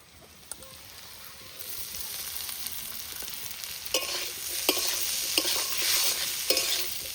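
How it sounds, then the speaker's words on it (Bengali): Susuni greens stir-fried in a pan, a steady sizzle that grows louder with repeated sharp spatula scrapes and clacks against the pan, close up with no talking. "ভালো করে নেড়ে ভেজে নেব"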